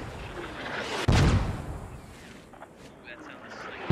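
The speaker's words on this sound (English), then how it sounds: "Here comes mortars." Mortar shells land and explode in the video game Squad, a sudden loud boom followed by a rumbling tail, with faint radio-style chatter and battlefield noise around it.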